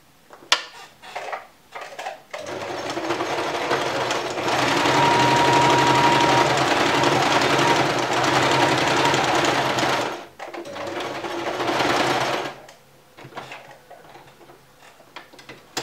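A sewing machine sews a flat-felled seam at 1.5 cm, running in one long loud steady burst of rapid stitching, with clicks and handling noises before and after.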